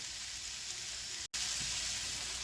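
Vegetables with garlic, salt and pepper cooking in a pan for ratatouille give a steady, close hiss of sizzling, broken by a brief cut of silence partway through.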